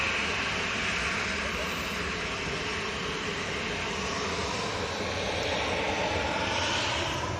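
Airliner arriving from Belfast at Manchester Airport, a loud, steady engine roar that holds throughout with a broad rushing wash, heard close by and alone.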